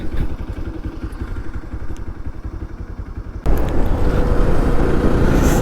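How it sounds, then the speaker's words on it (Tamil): Motorcycle engine on a misty mountain road between Nainital and Chandigarh, a steady rumble that jumps louder and rougher halfway through as the bike rides up close, with no talking. "நிதிஷ் ப்ரோ வண்டியை வந்துட்டாருங்க."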